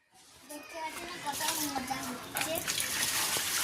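A child bathes, sitting in a bucket of water, with splashing and gushing water building up, while voices talk over it.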